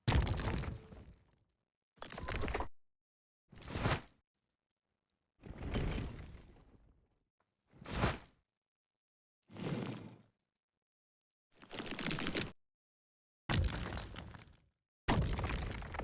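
Earth-themed effects from the Audio Apocalypse sound library play as nine separate bursts with silent gaps between them, each a loud crumbling, shattering crash of broken material that decays over about half a second to a second.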